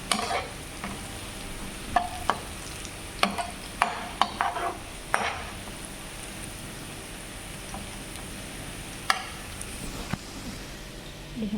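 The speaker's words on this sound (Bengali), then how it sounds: "এখানে পেঁয়াজ বেরেস্তা বানাচ্ছি," Onions fry for birista in a pan, a constant close sizzle broken by sharp scraping and clinking as a spoon stirs them now and then.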